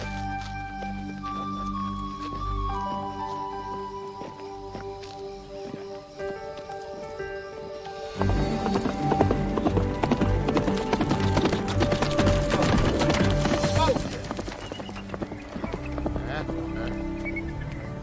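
A big black horse's hooves clop along a Western ranch trail, the rhythmic steps mixed into a loud scene where orchestral music swells and grows louder midway.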